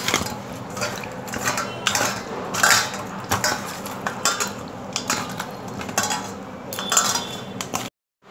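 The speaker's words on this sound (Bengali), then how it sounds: "মাছ হলুদ নুন দিয়ে ভালো মতো মাখিয়ে নিয়েছি" Pieces of rohu fish being rubbed with turmeric and salt in a bowl give a steady run of soft, close clinks and wet scraping, with no voices.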